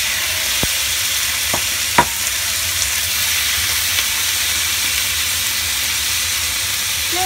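Chicken pieces frying in a pan, giving a continuous dense sizzle and hiss up close, with a few sharp clicks or taps from utensils early on and no talking.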